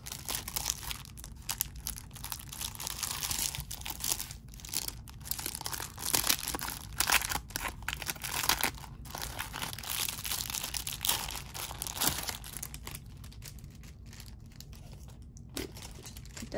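Paper cash envelopes in a budgeting binder being handled, continuous crinkling, rustling and crumpling of paper at close range, fairly quiet and steady with no speech.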